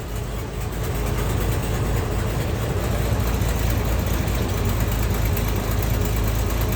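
Ford Bronco engine running steadily in gear, a loud continuous low rumble with vibration and no break, heard close up with no talking.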